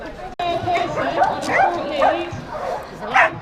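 Several dogs barking and yipping excitedly in an outdoor cycling setting, loud and close, with overlapping bursts and whimpers while people talk alongside.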